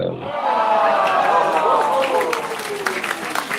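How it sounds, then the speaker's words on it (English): Cheering and clapping sound effect for an Independence Day theme, a loud crowd roar with dense applause that swells at once and then holds steady. "Let's say cheering and clapping because it's for Independence Day"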